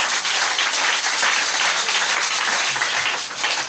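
A church congregation breaks into steady applause acclaiming the Lord Jesus Christ, a dense, even roar of many hands clapping close by, holding strong before easing slightly at the end.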